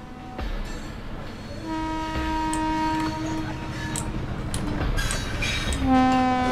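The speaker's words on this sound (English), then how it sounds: "So, go before the train comes." A train approaches in the Thomas The Shank Engine video game, sounding repeated sustained horn blasts over a rumbling, clattering roll that grows louder toward the end.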